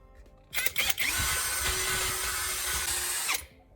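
A power drill widens a hole in an old AA battery, starting with a couple of short bursts, then running steadily and loudly at close range for about three seconds before stopping.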